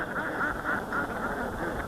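Ducks on a bamboo cage platform built over a fish pond on an integrated duck and fish farm quack in a lively, overlapping chorus, close and fairly loud, with no talking.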